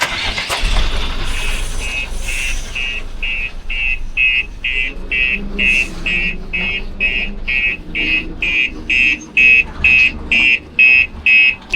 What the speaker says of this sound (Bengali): এবার গাড়িটাকে একটু পিছিয়ে দিচ্ছে, গাড়িটা ঠিক জায়গায়।